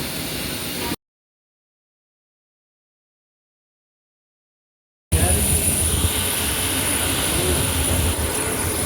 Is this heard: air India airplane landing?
yes